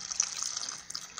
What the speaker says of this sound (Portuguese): Vou pôr um pouco d'água,